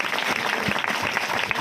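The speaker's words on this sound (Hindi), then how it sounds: "जोर से ताली बजाओ, जोर से" Crowd at a gospel church meeting in Damua, Chhindwara clapping loudly and continuously, a close, dense patter of many hands with some voices underneath.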